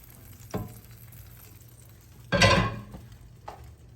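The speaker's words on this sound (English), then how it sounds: "now we are gonna pour our cherry mixture right over on top of the pork" A cherry mixture poured over pork chops in a hot pan gives short sizzling bursts, one brief hiss early, a louder sizzle in the middle and a fainter one near the end.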